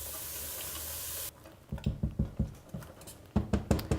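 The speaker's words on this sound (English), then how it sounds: "really just to let the vegetables start to cook, all nicely coated with the seasonings from the sausage" Chopped vegetables and chorizo sausage cook in a hot pan, with a sharp sizzle at first, then soft irregular tapping and pattering as the pieces are stirred, in two short bursts.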